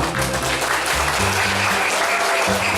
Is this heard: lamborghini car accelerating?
no